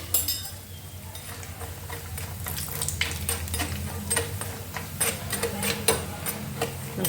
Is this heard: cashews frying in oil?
yes